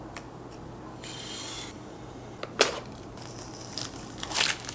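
Scissors trimming a heated bed sheet to fit a Printrbot Simple Metal 3D printer, with a few scattered snips and rasping cuts interrupted by short pauses, close and fairly quiet, with no talking.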